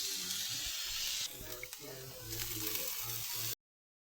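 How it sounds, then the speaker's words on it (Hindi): Vegetables sautéing in a pan, a steady close hiss and sizzle that runs continuously for about three and a half seconds, with some low kitchen rumble underneath and no one talking. "यहाँ पे मैं कर रही हूँ थोड़ा सा वेजिटेबल को सौते"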